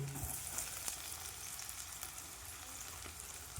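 Chopped garlic frying in oil in a home kitchen pan, a quiet, continuous sizzle with a brief stir or scrape near the start and no talk over it.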